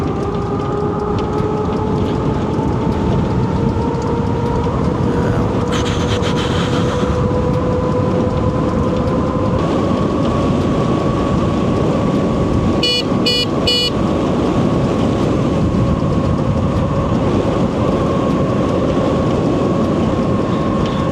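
A Happyrun G-300 Pro electric dirt bike rides down a road at full throttle. A loud, constant roar of wind and road noise carries a motor whine that rises slowly in pitch throughout.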